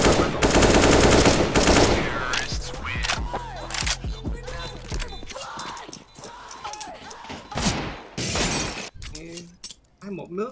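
Rapid bursts of automatic gunfire and sharp shots from a Counter-Strike match on the Anubis map, loud and close at first, then scattered single shots, with glass-like breaking and players talking over the action.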